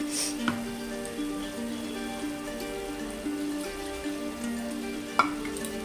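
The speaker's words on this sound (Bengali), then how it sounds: "তো আমি এর মধ্যে এবার একটু জল দিয়ে দেবো" A steady, quiet sizzle rises from a pan as liquid cooks, with a low hum underneath and a couple of soft knocks.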